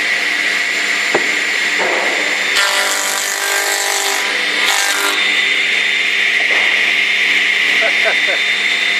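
A Heartland prenail machine feeds timber along automatically, its steady mechanical whir loud and close with brief louder bursts, while people talk over it.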